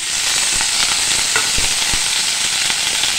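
Paneer frying in hot ghee with red chili powder, a loud, steady, close sizzle with small crackles and pops throughout.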